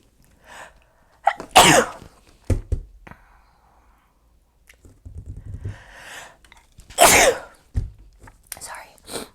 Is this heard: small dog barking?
no